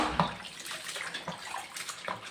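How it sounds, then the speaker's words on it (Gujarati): Potato chips are washed in water: close, irregular sloshing and splashing with small drips, with no voices. "અને ચાલુ પાણીએ પણ આપણે ધોઈ શકો છો. જો આ રીતે ધોઈ નાખો એટલે ધોવાઈ જશે આ ચિપ્સ."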